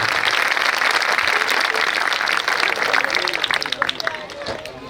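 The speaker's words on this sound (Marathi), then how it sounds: "एक सर्वांनी टाळ्या वाजवायच्या त्यांच्यासाठी" At a village school cultural programme and felicitation ceremony, an audience applauds a teacher with loud, dense, sustained clapping for about five seconds, easing slightly toward the end under a light crowd murmur.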